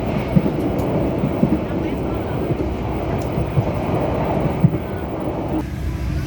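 The Airlangga train on the Surabaya to Semarang run rumbles steadily from inside, a continuous low roll punctuated by regular rail-joint knocks, then the tone shifts abruptly near the end.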